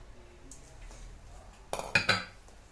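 A metal frying pan clinks and clatters briefly as it is handled for cooking with olive oil, a short burst of sharp metallic knocks after near silence.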